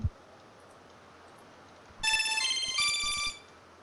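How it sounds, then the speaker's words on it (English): A custom phone ringtone plays a short, bright electronic melody of stacked tones for about a second and a half, starting after a quiet stretch, with no speech. "I decided to create a special ringtone, two ringtones"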